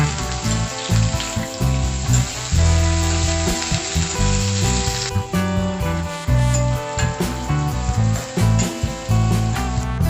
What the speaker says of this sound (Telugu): నెక్స్ట్ కట్ చేసి పెట్టుకున్న onions, curry leaves and green chillies ఈ మూడింటిని ఫ్రై చేసుకుందాం.